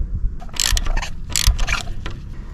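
A 3/8 ratchet clicks in quick bursts while loosening engine mount bolts on a 2008 Smart Fortwo 451 turbo, two main rattling runs with pauses, close and moderately loud, no talking.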